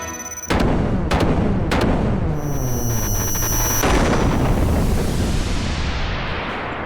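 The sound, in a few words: cannon firing in the video game Xenogears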